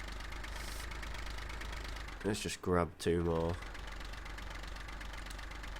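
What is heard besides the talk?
tractor diesel engine idling in the video game Farming Simulator 15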